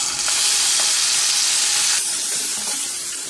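Two medium onions, grated, fry in a hot pan with a steady, close sizzle and hiss that holds throughout, easing slightly toward the end.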